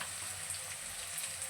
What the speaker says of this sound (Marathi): तेलामध्ये थोडे मसाले फ्राय केल्याने छान अशी तरी येते.